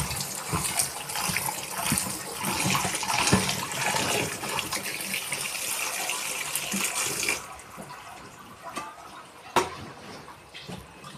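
Water pours and splashes steadily off freshly washed bamboo shoots for about seven seconds, then thins to a quieter trickle and drip with one brief splash near the end.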